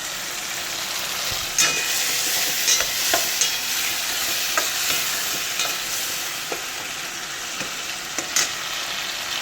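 Sev tomato curry masala frying in a pan, a steady bright sizzle close up, punctuated by repeated scrapes and clinks of a spoon stirring at irregular intervals.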